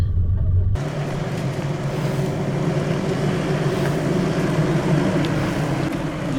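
A 4WD grinds slowly along dry, leaf-littered dirt ruts on a forest track, a steady engine drone with rumbling tyre noise throughout and no talk.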